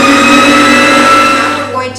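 An electric mixer whips flourless gluten-free chocolate cake batter with a loud, steady motor whine held close, dropping and shifting in pitch near the end.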